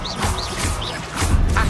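A burst of crackling spell effects as the Confringo fire-blast spell is cast in the Hogwarts Legacy game, with sparkling whooshes and a rumbling impact building toward the end of the short clip.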